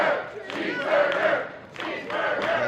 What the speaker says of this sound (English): this audience here at the Thunderbird Hall are cheering for Cheeseburger